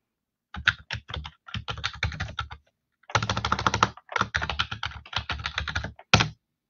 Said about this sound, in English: So I'm just typing right now.